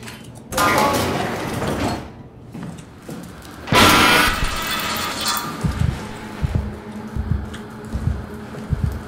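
Sliding doors in the sci-fi horror game SOMA, heard as two loud whooshing mechanical slides a few seconds apart, followed by a run of soft thuds and clunks.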